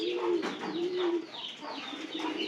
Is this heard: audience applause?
no